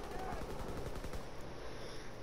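Fairly faint rapid automatic gunfire from the Call of Duty WWII video game, a fast, continuous rattle of shots across the whole stretch.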